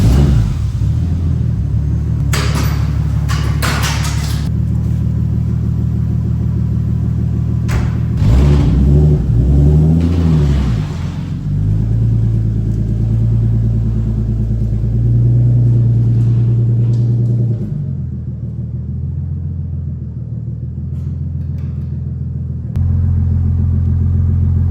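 Nissan 300ZX fitted with a 2JZGTE engine and drag pack, warmed up and running outside, its exhaust note a loud steady rumble with a few throttle blips and revs, alone without talk.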